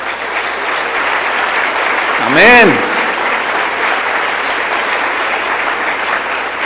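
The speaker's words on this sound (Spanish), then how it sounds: "Denle otro aplauso al Señor." Sustained applause from a church congregation fills the whole stretch, loud and steady, while a voice briefly calls out over it partway through.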